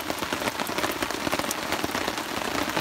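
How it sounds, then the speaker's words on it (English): Steady rain patters on a tarp overhead at a rainy campsite, a dense, close hiss with crisp drop taps scattered through it and no talking. "I can just sit here under my tarp, watch the rain,"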